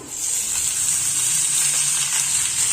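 Leafy greens (punarnava, atikamamidi and white galijeru leaves) sizzle in a pan with an even, bright, hissing fry that holds steady throughout, and no voices are heard.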